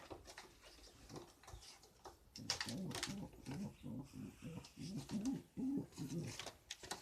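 A Sarı Çilli pigeon coos in repeated low, throaty phrases close by, with soft rustling and a few faint knocks in between.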